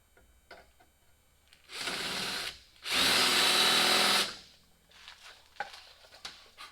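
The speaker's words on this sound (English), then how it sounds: "Let's drill this other one." A power drill bores an anchor hole on a Mack Granite dump truck, two loud sustained bursts of whirring, the second longer, with light clanks and handling noises before and after.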